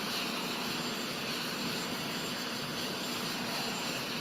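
An airplane engine runs in a steady, loud, unbroken roar with a broad hiss and a faint constant hum, with no other sounds over it.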